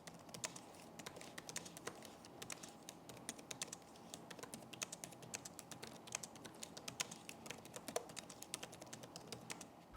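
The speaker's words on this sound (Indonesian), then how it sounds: "berikut ini adalah contoh suara feedback dari keyboard Asus ZenBook 14X OLED Space Edition UX5401" Quiet, rapid typing on an Asus ZenBook 14X OLED Space Edition UX5401 laptop keyboard, a dense stream of soft key clicks with occasional louder taps, heard alone and up close.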